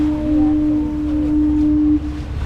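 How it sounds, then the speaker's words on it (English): A boat foghorn blows one long, steady, deep tone near St. Anthony, Newfoundland, loud and sustained for about two seconds before cutting off. "There we go, we heard the foghorn."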